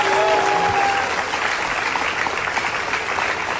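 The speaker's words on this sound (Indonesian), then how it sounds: "tepuk tangan untuk mereka berdua." A studio audience at the Indonesian TV talk show Hitam Putih claps loudly and steadily, dense applause filling the whole stretch with a brief voice tone at the start.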